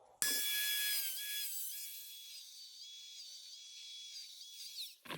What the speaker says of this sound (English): I'm gonna take my Dremel and cut a little in there